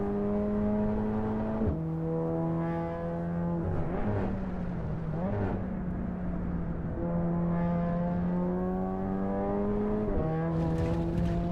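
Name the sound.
road car engine in Assetto Corsa Evo video game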